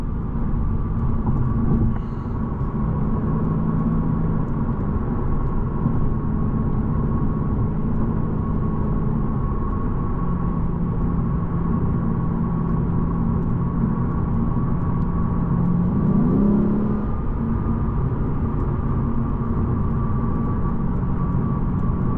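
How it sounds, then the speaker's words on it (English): Steady low V8 drone from a 2025 Lexus RC F Final Edition cruising while shifting on its own, heard from inside the cabin as a continuous engine hum with road noise, no talking. "And that V8 is just wonderful. It sounds so good."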